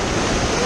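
White water rapids rushing and splashing around a raft on the Sauk River, a loud broadband roar of churning water with wind buffeting, very close and brief.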